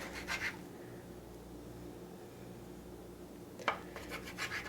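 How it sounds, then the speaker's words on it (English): Bench knife scraping and cutting through sourdough bagel dough on a work surface, two short soft scraping bursts at the start and end over a quiet room hum, close but faint, no talking. "I'm going to take my bench knife, I'm going to cut it in half roughly, cut it each half in half again,"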